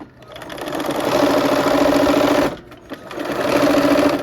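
A sewing machine stitches a quilt block seam in two fast, steady runs separated by a short pause, loud and close with no talking.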